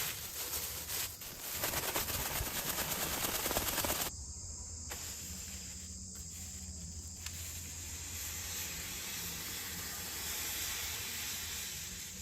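Potassium nitrate and sugar rocket fuel on a test burn gives a loud, harsh, steady hiss for about four seconds, then a softer continuing hiss with no voices.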